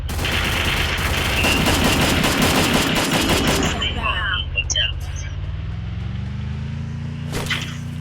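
Rapid video game gunfire rattles loudly and continuously for several seconds, then breaks off into quieter engine-like drone and scattered sharp effects.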